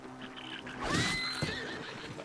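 A horse in The Legend of Linkle video game gives a loud, wavering whinny in the middle, set against faint background game sounds, with a soft hoof thud afterward.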